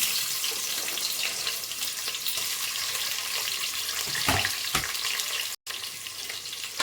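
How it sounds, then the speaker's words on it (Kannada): Chopped onion hits hot oil with mustard seeds while cooking an avarebele sambar, producing a loud, continuous close sizzle with a few stirring scrapes near the end and a brief dropout. "ಈಗ ಆಯಿಲ್ ಸ್ವಲ್ಪ ಬಿಸಿಯಾಗಿದೆ ಸ್ವಲ್ಪ ಸಾಸಿವೆ ಸೇರಿಸ್ಕೊಳ್ಳೋಣ ಈಗ ಹೆಚ್ಕೊಂಡಿರುವಂತಹ ಆನಿಯನ್ ಸೇರಿಸ್ಕೊತಿದ್ದೀನಿ"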